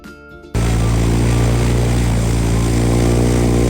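Cessna 152 piston aircraft engine catching after a brief starter whir, then roaring at a loud, steady, close-up idle drone with a strong low throbbing hum that fills the rest of the moment.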